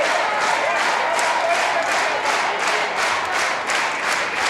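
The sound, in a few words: MMA fight crowd cheering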